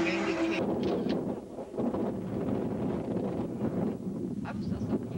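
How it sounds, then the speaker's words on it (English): Strong wind buffeting the microphone outdoors near Mount Hood, a steady rumbling roar with gusts that dip briefly and return, with faint voices underneath. "It's kind of windy. Really windy."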